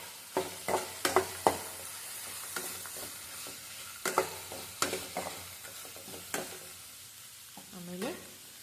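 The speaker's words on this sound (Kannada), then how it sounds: "ಇದನ್ನು ಫ್ರೈ ಮಾಡಿ ಮಿಕ್ಸ್ ಮಾಡಿ" Tamarind frying and being stirred in a pan for tomato chutney: soft sizzling under a series of sharp scraping and clinking strokes of a spoon against the pan, close and irregular.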